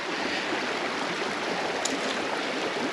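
Shallow stream at a water crossing in a Utah slot canyon, a steady broadband rush of flowing water, close and even throughout with no voices.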